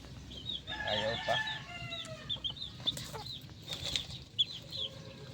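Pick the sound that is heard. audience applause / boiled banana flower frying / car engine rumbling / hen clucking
hen clucking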